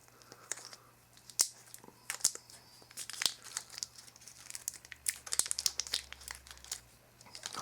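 PVC shrink wrap is peeled off an 18650 battery, giving close, crisp crinkling and crackling in irregular bursts over a quiet background.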